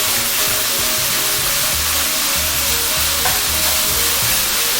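Flour-coated beef tips browning in a pan, giving a loud steady crackling sizzle with constant frying hiss throughout, with no talk.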